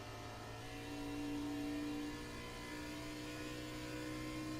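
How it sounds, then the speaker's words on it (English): Race car engines at Pocono in a racing video game, a steady mid-pitched engine whine with sustained harmonic tones, one pitch dropping and shifting partway through as if a car downshifts. "Sounded to me like somebody downshifted"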